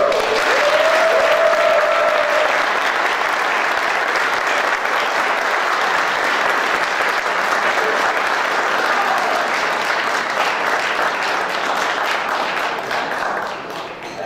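An audience at a Quebec Optimist Club tribute ceremony breaks into sustained applause, dense, even clapping carried for over ten seconds before easing off slightly at the end; no one speaks.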